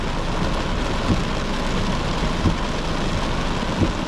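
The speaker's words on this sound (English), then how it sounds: "Some heavy rain making its way through Bridgeman Downs at the moment" Heavy rain pours down during a thunderstorm around Bald Hills and Bridgeman Downs, north of Brisbane in South East Queensland, as a steady dense hiss broken by a few soft low thumps, with no one talking.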